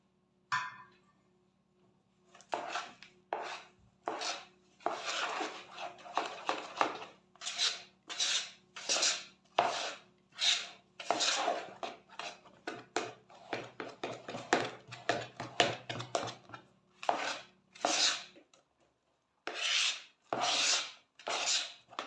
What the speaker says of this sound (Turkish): Şimdi bu aşamadan sonra kaşığımla karıştıracağım.